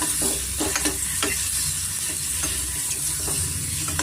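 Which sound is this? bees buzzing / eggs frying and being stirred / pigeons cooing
eggs frying and being stirred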